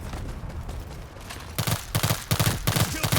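Rapid bursts of M416 rifle fire in a war video game, loud and near, arriving in quick repeated volleys after a quieter stretch of background game noise.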